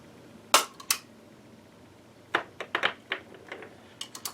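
CCI #41 primers being seated into cases with a hand priming tool while loading 300 Blackout: a series of sharp, close clicks, two near the start and a quicker scattered run later, with no talking.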